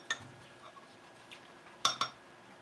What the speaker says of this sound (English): Let's get her pancake batter a little stir